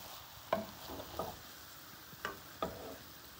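Crushed carrots stirred in a pan over medium heat: four soft spoon scrapes and taps spaced irregularly over a faint low sizzle, quiet and close, with no talking.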